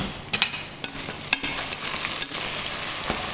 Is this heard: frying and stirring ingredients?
yes